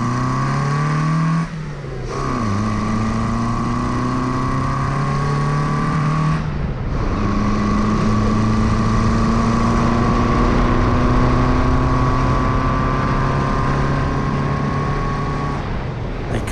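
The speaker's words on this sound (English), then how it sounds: "Gus's JC Midge is powered by a 1300 Triumph engine, operated with a pair of SUs from a 1500 Dolomite, and as you hear, it really does sound good" JC Midge kit car with a 1300 Triumph engine on twin SU carburettors from a 1500 Dolomite accelerating hard through the gears, loud and close, a rising engine note broken by two brief gear-change dips.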